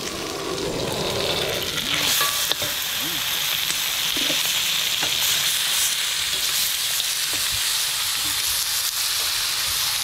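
Meat sizzling steadily in its own juices in a hot pan, a loud continuous crackle and hiss with occasional spatters, while a person talks over it.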